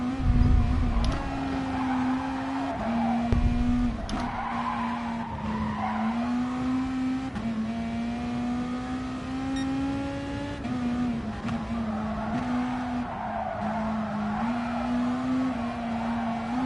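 A race car laps a track in Gran Turismo Sport, its engine holding a loud, steady drone that rises and dips with gear changes, while tires squeal and skid repeatedly through the corners.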